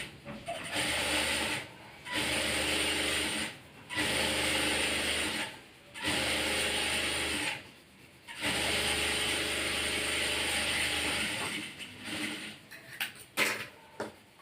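A sewing machine stitches the folded hem of a blouse sleeve, running in long steady whirring stretches broken by brief stops, then a few quick clicking stitches at the end, close and clear with no speech.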